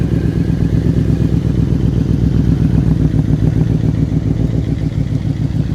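Motorcycle engine revving in steady, loud, close pulses during slow-speed riding practice, with a continuous throaty throb and no talk over it.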